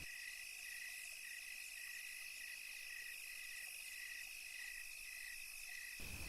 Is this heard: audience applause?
no